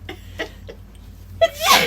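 A sneeze set off by knitting with mohair wool: a short sharp intake, then a loud burst near the end, after a few small breathy vocal sounds.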